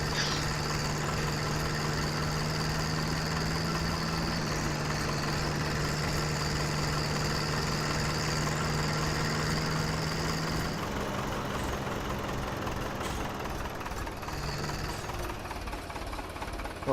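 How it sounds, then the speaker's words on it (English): A small tractor engine idles steadily nearby, a constant low mechanical hum with a faint knocking rhythm that holds for most of the clip and softens slightly toward the end, with no talk. "I love this little tractor."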